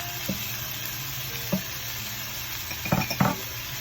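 Grated carrot, garlic and onion sizzle softly in a pan while being stirred, with a low frying hiss and a few light clinks of a spoon against the pan.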